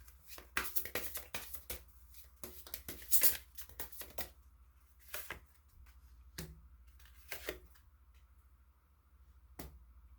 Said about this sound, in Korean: 그렇다면 조언점 카드 네, 뽑아보도록 하겠습니다.